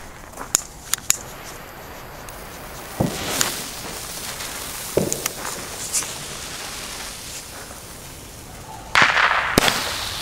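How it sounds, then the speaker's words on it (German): Small-calibre Vulcan Roman candle firework of 30 shots, firing outdoors: sharp popping shots spaced irregularly over several seconds, with a louder crackling burst near the end. "Kleinkaliber haben wir denn noch die Vulcan, die waren ja neu, die haben schöne bunte Murmeln drauf."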